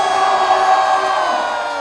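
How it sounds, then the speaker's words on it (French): Spectators at an amateur skateboarding contest qualifier cheer and shout loudly, a sustained crowd roar with whoops that fades slightly toward the end. "Sous les applaudissements du public"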